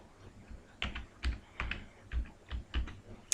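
Typing on a computer keyboard while entering a field in Google Forms, heard as about eight soft, close key taps in a loose rhythm.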